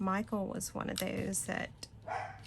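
A dog barks and yips in short bursts while a person talks over it, the barks close and mixed with the speech.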